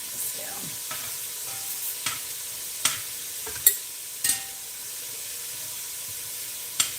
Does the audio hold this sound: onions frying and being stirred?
yes